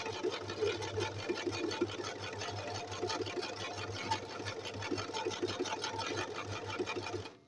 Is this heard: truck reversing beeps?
no